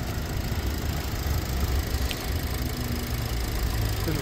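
A 2021 Audi Q2 Sport's turbocharged engine idles smoothly as a steady, even hum with a soft constant hiss on top. No one speaks.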